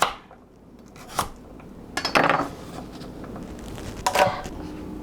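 A knife cuts through thick, woody carrot pieces on a cutting board, giving a few separate crisp chops and board knocks spaced apart against a quiet kitchen background.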